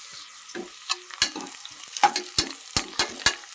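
Onions and curry leaves frying in hot oil in a pan for Coimbatore-style chicken biryani, with close, crackling sizzle and a series of sharp stirring scrapes and clatters at irregular intervals, no talking.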